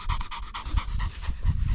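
Close, rapid panting from a house dog on a farm with cassava plantations in Barinas, Venezuela, quick rhythmic breaths alone for under two seconds.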